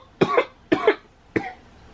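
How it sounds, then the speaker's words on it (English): Three close, harsh coughs from a woman, the first two quick and forceful, the third slightly weaker, each a short burst separated by brief pauses in a quiet indoor room. "I don't mean to be coughing in your ears."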